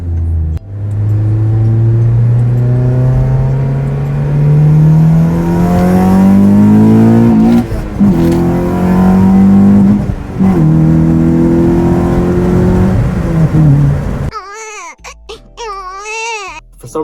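A 2014 Honda Civic Si fitted with an aftermarket downpipe accelerates hard on a highway, its engine note climbing steadily through the gears with brief dips at the shifts, loud and close from inside the cabin.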